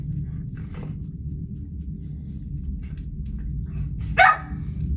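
A single short dog bark rings out near the end over a low steady hum, with faint yips or whimpers earlier.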